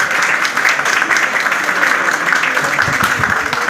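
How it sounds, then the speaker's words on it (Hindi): Dense, steady clapping from an audience at a Teachers' Day event fills the room continuously from start to finish, with faint voices mixed in. "तो बहुत जोरदार तालियां।"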